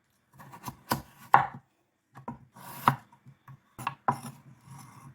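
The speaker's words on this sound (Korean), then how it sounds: "탕국에 넣을 무도 잘라주세요." A knife chops radish on a board for a Korean beef-and-radish soup, giving several sharp, close chops in uneven bursts with short pauses between them.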